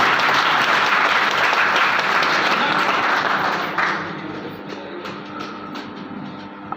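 Audience at a Kshatriya Mahasabha foundation day gathering breaks into loud, dense applause for several seconds, then it thins out into scattered claps and murmuring.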